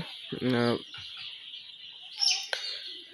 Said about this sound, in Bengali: দেখতে পাচ্ছেন যে মুরগিগুলো কি সুন্দরভাবে খেলছে আর খাচ্ছে।